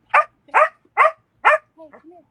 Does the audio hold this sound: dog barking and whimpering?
yes